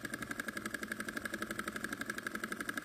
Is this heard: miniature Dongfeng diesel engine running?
yes